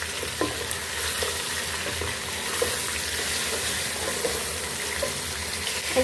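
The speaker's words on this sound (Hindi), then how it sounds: "यहाँ पर हमने 1 किलो चिकन ले लिए, वो इसमें हम ऐड कर लेंगे और इसको अच्छे से मिक्स कर लेंगे" A kilo of chicken fries in a pot for Lahori murgh cholay, with a dense, even sizzle and faint stirring scrapes running throughout.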